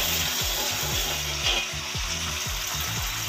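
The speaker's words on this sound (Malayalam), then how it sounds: "നന്നായിട്ട് ഇളക്കി" Puliyodara, tamarind rice, stirred in a pan with a spatula, giving repeated rhythmic scraping strokes about twice a second over a steady sizzle, close and moderately loud.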